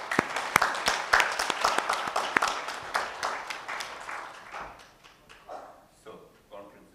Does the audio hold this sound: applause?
yes